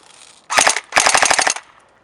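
A PPSh-41 airsoft gun with a blowback mechanism fires two loud, close bursts of rapid rattling shots, a short one followed by a longer string after a brief pause.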